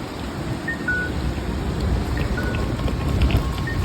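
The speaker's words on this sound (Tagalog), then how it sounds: "Kahit malakas ang ulan" Dense, steady rainfall pouring down nearby in Tokyo, a continuous broadband hiss with occasional faint high beeps in the background.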